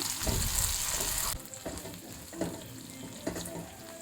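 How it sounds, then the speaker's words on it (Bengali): Chopped tomatoes are stirred into scrambled eggs frying in a pan, giving a loud sizzle at first that drops away, followed by a few soft scraping stirs against the pan. "টমেটোগুলোকে ভালোভাবে নেড়ে চেড়ে ডিমের মধ্যে মিশিয়ে নেবো"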